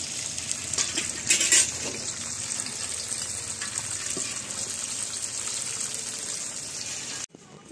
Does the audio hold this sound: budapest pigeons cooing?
no